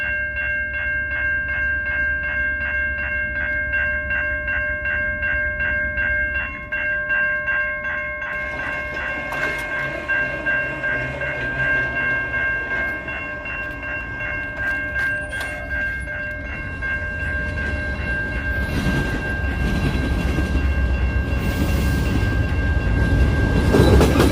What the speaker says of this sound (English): Oh, we got a train, guys.